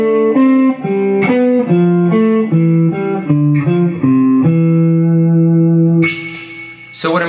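A single melodic instrument plays a descending scale in thirds, starting on C and stepping downward with each pair of notes rising a third, clear and steady, ending on a held note followed by a brief brighter flourish.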